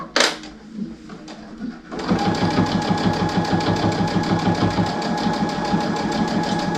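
A sewing machine stitches a placemat, starting after a few clicks and then running in a fast, steady, rhythmic chatter close up for several seconds.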